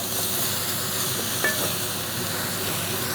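Beef cheeks browning in a pan give a steady, even sizzle with faint stirring scrapes and one brief sharper click, close and alone without talk.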